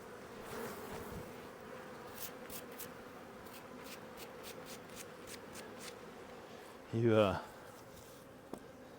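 Bees buzz faintly in the background, with one louder, closer buzz passing by briefly near the end.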